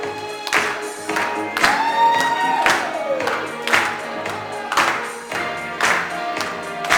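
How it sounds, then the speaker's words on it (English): Wedding guests at a Newport, Rhode Island navy officers club clap their hands in time with music, sharp regular beats repeating steadily over the playing track. "if I can have everybody clap their hands."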